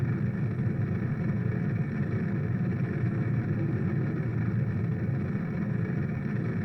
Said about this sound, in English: this mainsail engine is very overpowered